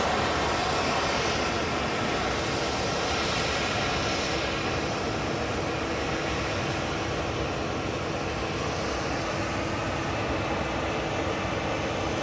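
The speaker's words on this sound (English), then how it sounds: "We have an EasyJet coming over and a 273" An EasyJet airliner flying overhead, heard as a steady, even broadband roar that holds for the full twelve seconds without clear peaks, moderately loud and fairly distant.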